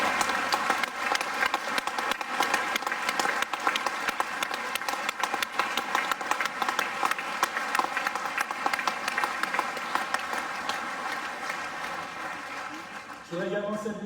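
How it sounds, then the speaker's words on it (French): An audience at the MR party congress applauds Charles Michel, with loud, dense clapping from a large crowd that runs unbroken for about thirteen seconds before a voice cuts in at the very end. "Je vous demande d'applaudir bien fort Charles Michel."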